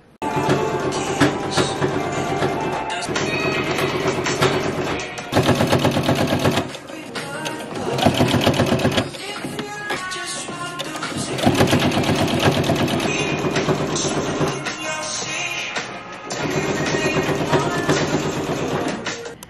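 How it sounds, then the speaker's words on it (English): A sewing machine top-stitches ruffle bloomer shorts, running in loud, close, rapid mechanical bursts separated by brief pauses. "I'm just basically going to top stitch over to this stitch that's already there."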